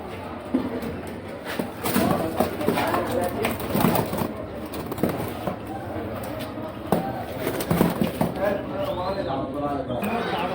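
Pigeons and doves coo and rustle at the open animal and bird market in Mosul, mixed with market bustle while people talk nearby throughout.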